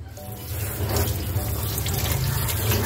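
Running tap water washing a dirty foam air filter from a Rusi 100 motorcycle, a steady close splashing gush that swells after a brief start and continues without pause.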